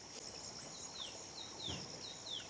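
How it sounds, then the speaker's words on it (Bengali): Several birds chirp with quick descending whistles against a steady high insect buzz, the calls fairly faint and spread across a quiet hill forest near Mirik. "কত পাখির আওয়াজ"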